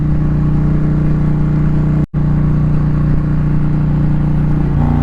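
A 2022 Indian Challenger Elite motorcycle engine runs while being ridden in the rain, a loud steady low drone with one brief dropout midway and a slight shift in tone near the end.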